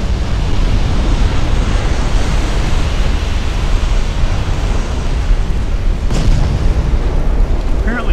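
Warship flash fire explosion in the naval game Ultimate Admiral Dreadnoughts, a loud sustained deep rumbling roar of blast and battle noise lasting throughout, with a sharper burst partway through.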